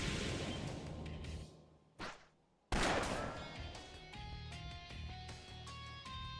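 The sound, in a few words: sniper gunfire in the video game Trails of Cold Steel 3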